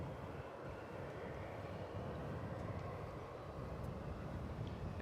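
A fixed-wing airliner approaches to land on runway 17 center at DFW Airport, heard as a steady, distant broadband jet roar that holds evenly throughout with no voices.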